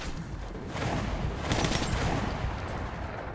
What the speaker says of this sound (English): She's sniping there as well.